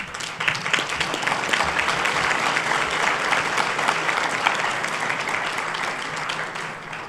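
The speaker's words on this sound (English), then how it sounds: "give yourselves a big round of applause" Loud, dense applause from a conference audience at a diplomatic session continues without a break for about seven seconds, with crowd noise blending into the clapping.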